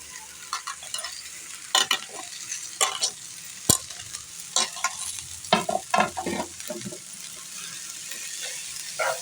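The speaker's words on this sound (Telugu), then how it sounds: "ఇప్పుడు కట్ చేసి పెట్టుకున్న బీరకాయ ముక్కల్ని వేసేస్తున్నాను" Ridge gourd pieces frying with sweet corn in a pan, soft background sizzle broken by repeated spatula stirs and scrapes in irregular bursts, one sharp knock midway.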